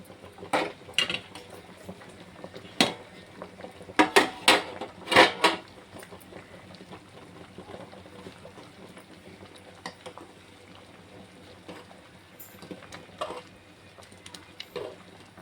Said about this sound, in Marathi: आता याला उकळी आलेली आहे.